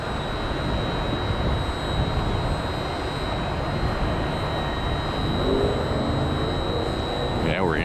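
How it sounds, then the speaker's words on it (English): An Airbus A321 jet airliner bound for Detroit roars past at close range during plane spotting at Tampa airport, a dense, steady engine rush with a rising whine near the end. "They're flying the A321. They're heavy artillery. They're big boy Airbus to the Motor City"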